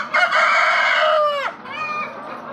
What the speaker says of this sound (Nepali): भाले यता हेर